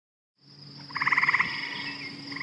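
Frogs croak loudly and close by, a fast pulsing run of about eight croaks over a steady chorus of trilling calls that carries on to the end.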